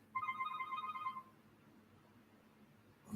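A mobile phone rings with a short melodic ringtone, bright repeated tones for about a second, fairly loud and close in a quiet room, then fades to low background noise.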